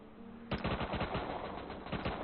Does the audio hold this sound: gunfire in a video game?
yes